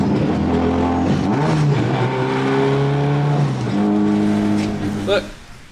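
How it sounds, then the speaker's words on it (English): A loud Nissan S13 engine revs hard, its pitch climbing and dropping through several gear changes, close and sustained, ending in a brief higher whine. "I always loved how rev happy this car was."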